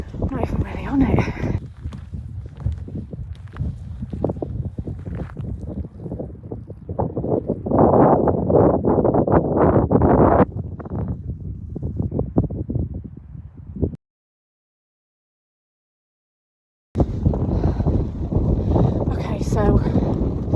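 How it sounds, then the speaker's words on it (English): Strong gusting wind buffets the microphone on Pen-y-ghent hill, a loud continuous roar with rising and falling surges and footsteps mixed in, cut by a few seconds of silence before the wind returns just as loud. "Very windy. Very windy."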